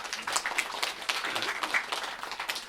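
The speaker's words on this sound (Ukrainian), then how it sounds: "давайте поаплодуємо е, кумам" A small comedy-show audience claps in a brief, loose burst of applause, the individual hand claps fairly quiet and uneven.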